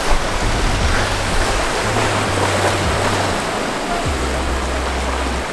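Steady broadband wash of waves breaking along a shoreline, continuous and fairly loud, with a low rumbling hum rising and falling beneath it.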